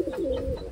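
A pigeon gives a short, soft coo up close, a single low rolling call lasting under a second against quiet surroundings.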